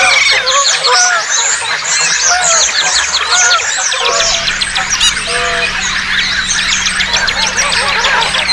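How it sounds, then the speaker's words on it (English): A dense chorus of many birds calls continuously and loudly, with geese honking among chirps, tweets and squawks, a low hum joining partway through. "here's every single bird that exists."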